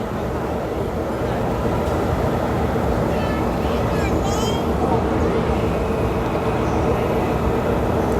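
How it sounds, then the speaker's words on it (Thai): A steady rumbling model train noise runs throughout at a model railway exhibition, with someone speaking over it and faint squeals in the background. "มีรถจากอันสตอมนะครับกำลังวิ่งมา"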